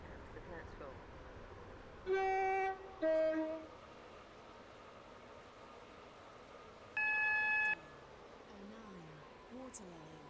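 In the Stepford County Railway video game, a train arrives at a station, sounding two short horn blasts then a longer one over a low rolling rumble, with an announcer speaking between.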